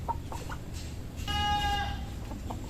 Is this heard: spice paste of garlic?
no